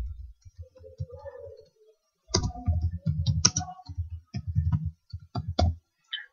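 Keystrokes on a computer keyboard while a name is typed into a web form, a short burst of clicks early on followed by denser, irregular runs of taps, close and fairly quiet.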